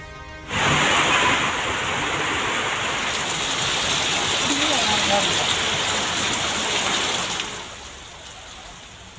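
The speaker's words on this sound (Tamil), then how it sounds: "கொடைக்கானலில் சாரல் மழை." Light drizzle falls in the hills of Kodaikanal, a steady, even hiss of rain that holds for several seconds and then fades slightly near the end, with no voices over it.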